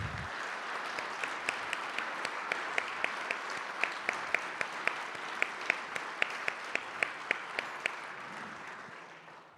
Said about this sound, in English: Please let us offer a round of applause and thanks to our department